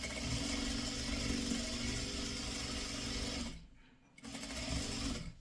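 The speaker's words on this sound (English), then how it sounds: "Once I start sewing, then I stretch my pieces to the end." Sewing machine stitching pre-cut quilt fabric pieces, a steady close mechanical whirr that stops briefly near the end, then starts up again, no voices.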